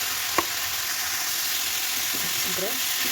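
Onion, green chilli, turmeric and salt frying in a pan, a steady broadband sizzle running throughout with one sharp utensil knock early on and faint stirring scrapes near the end.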